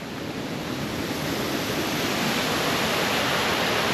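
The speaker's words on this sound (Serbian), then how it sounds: "Vidjeli ste odakle izvire sve voda" Spring water gushing out of a hillside in a steady, loud, broadband rush that holds constant throughout, no voices over it.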